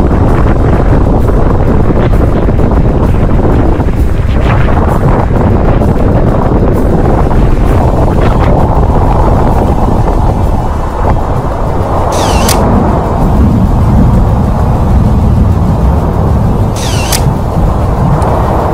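Strong wind buffets a boat in heavy rain while its engines keep running, a loud continuous roar of gusts and microphone wind noise over a low engine drone, without talking.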